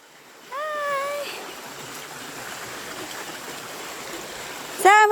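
A river flows steadily with a continuous broad rushing wash close by, while a voice calls out briefly near the start and again at the end.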